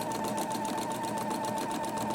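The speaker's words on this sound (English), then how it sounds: "And we're just sewing our width of fabric." A sewing machine runs steadily, stitching width-of-fabric strips for a quilt, a continuous close, even mechanical hum and rapid needle patter without pause.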